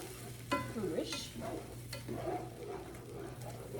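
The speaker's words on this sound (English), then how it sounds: "now we're going to stir this around and make them like a roux-ish" A roux for Salisbury steak gravy is stirred around a pan, with quiet scraping and clinking strokes over a faint sizzle and a low steady hum.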